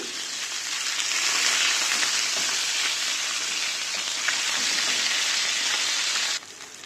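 Pieces of rohu fish sizzle and crackle in hot oil in a pan, a steady close frying hiss that holds evenly for several seconds and then drops off.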